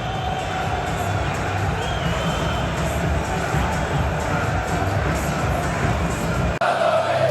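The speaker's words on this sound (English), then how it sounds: "the Como fans down there making noise." A dense crowd at an Atalanta versus Como football match in Bergamo roars and chants continuously, a broad wash of cheering voices that cuts abruptly near the end.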